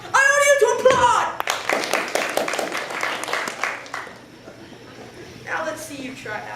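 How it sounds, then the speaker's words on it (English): Applause in a school stage production of Alice in Wonderland, a burst of clapping from a group that thins and fades over a few seconds, with theatrical voices speaking before and after. "I order you to applaud!"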